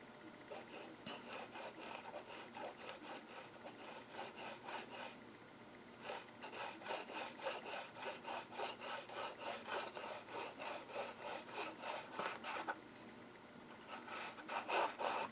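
Cork being sanded with sandpaper under very light pressure, a steady run of soft, rhythmic rasping strokes that pauses briefly twice, close and alone with no talk.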